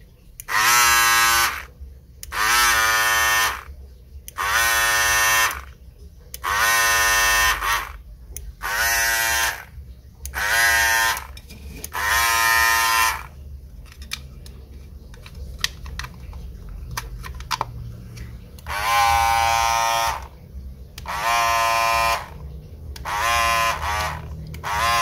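An Andis Master cordless hair clipper with a faulty on/off switch contact runs in repeated short buzzing bursts, each roughly a second long, cutting in and out with brief silences between.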